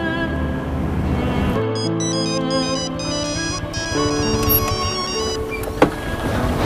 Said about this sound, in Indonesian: Oh iya, aku telepon aja pacarku yang tadi.